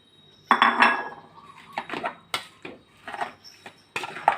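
Utensils clink and knock against a dish at close range while vegetables are added to a spicy Thai pork salad, a series of sharp, irregular metallic taps with quiet gaps between them.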